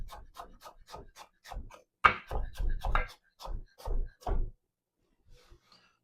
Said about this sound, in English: Next, you're going to slice an onion.